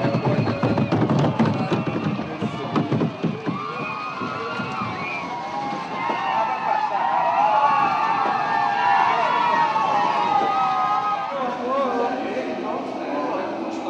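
A Brazilian football crowd in a stadium in Goiânia roars continuously in bad weather, a loud dense mass of cheering and chanting with sirens or horns wailing through it.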